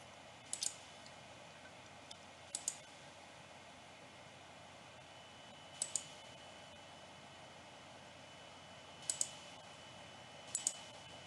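Computer mouse clicks while placing anchor points for a selection in image-editing software, heard as faint crisp single and double clicks spaced a few seconds apart over a soft steady background hiss, with no talking.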